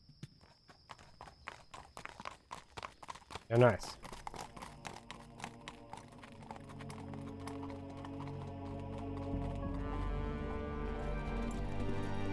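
Horse hooves clip-clop in the video game Yesterday: Origins, a steady run of hoofbeats under spoken talk and game music, with a sharp thump partway through.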